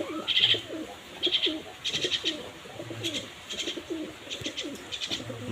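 Pigeons, including a blue hen pigeon in a loft, coo in low, rolling phrases, repeated steadily and close by, with a few higher chirps from other birds in the background.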